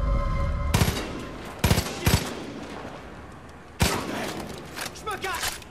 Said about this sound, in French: quelqu'un nous tire dessus.